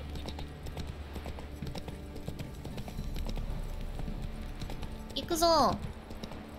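Roach, a horse in a video game, clip-clops along at a steady gallop under busy game noise and music. A voice shouts briefly over the hoofbeats and a sweeping tone rises near the end.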